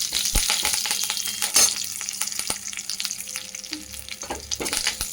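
Chopped curry leaves crackle and spit in hot oil, a close, dense frying hiss broken by sharp pops and a louder burst of spatter early on, with no talking.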